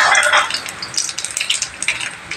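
Dry red chillies and nigella seeds hit hot oil in a wok, giving a loud, bright sizzle that is strongest at first and then settles into crackling with scraping stir clatter. No voices.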